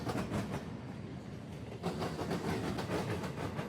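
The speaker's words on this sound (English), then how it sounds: "ES44AC number 710 lead the train over the diamonds heading eastbound on the Mount Victory subdivision" A freight train led by an ES44AC locomotive rolls eastbound over railroad diamonds, its wheels clattering in a loud, continuous rhythmic clack close by.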